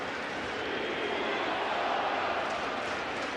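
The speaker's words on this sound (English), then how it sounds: "The crowd chanting, "We want Soto."" A large baseball crowd roars in a steady, broad wash, and the chant for Soto blurs into one continuous stadium din.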